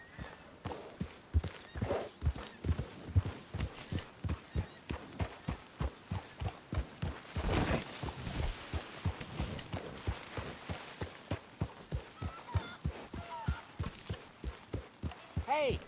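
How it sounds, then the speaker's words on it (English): Steady clip-clop of horse hooves walking at an even rhythm for a long stretch, close and clear, with faint ambient sound beneath, from the video game Red Dead Redemption. "get that horse out of here"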